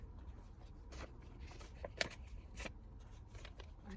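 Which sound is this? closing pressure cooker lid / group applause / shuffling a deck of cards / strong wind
shuffling a deck of cards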